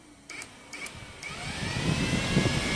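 Several sharp clicks from a relay switching the radiator fan on a Benelli TNT25 motorcycle, followed by the electric fan whirring up into a steady, rising rush.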